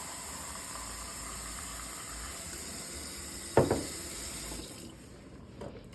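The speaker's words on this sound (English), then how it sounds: "So let's just get that filled with hot water." Hot tap water running into a jar in a kitchen sink, a steady hiss of flowing water with a sharp clink partway through before the stream cuts off.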